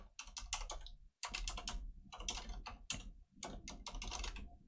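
Keys clatter on a computer keyboard as a command is typed, rapid clustered bursts of close, crisp clicks separated by brief pauses.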